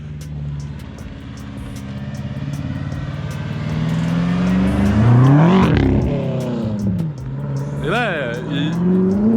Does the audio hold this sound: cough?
no